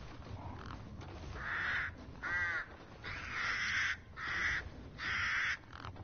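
Crows caw in Resident Evil Village, a series of about five harsh, rasping calls in uneven bursts, fairly close and prominent over a soft ambient background.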